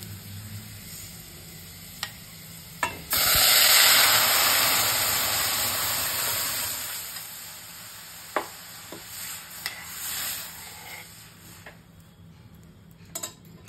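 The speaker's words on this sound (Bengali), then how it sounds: "এই ডালটা তড়কা লাগিয়ে দিচ্ছি এবার।" Radhuni seeds, bay leaf and onion tempering are poured into lentil dal with a sudden loud sizzling burst that slowly fades, followed by scattered clinks and taps of utensils against the pot.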